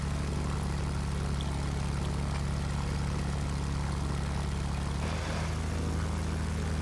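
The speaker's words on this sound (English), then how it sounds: "But you can see and hear the engine sound" Junkers F 13 engine droning in a flight simulator game, a steady low propeller hum with a slight shift in pitch midway, continuous and close.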